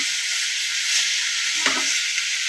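Onion, Kashmiri chilli, salt and turmeric sizzle loudly in hot oil in a frying pan, a dense continuous hiss with faint stirring scrapes underneath.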